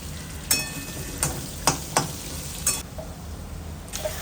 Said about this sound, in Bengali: তারপরে আলুগুলো ছেড়ে দিলাম, আলুগুলো ভালো করে ভেজে নিলাম।